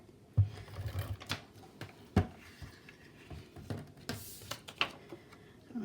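Double-sided tacky tape laid from a tape runner along the inside of score lines on a paper treat box, heard as close, soft scratchy clicks and taps in an irregular rhythm.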